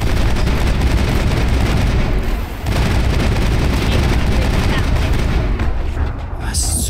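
Dense, loud gunfire and explosions from a Mass Effect battle against Cerberus forces, a nearly continuous barrage of shots and blasts with a brief dip partway through.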